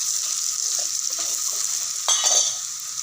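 Prawns sizzle in hot oil as salt, turmeric, chili, coriander and cumin powders go in, a steady close hiss with a brief louder burst of sizzle and stirring near the end.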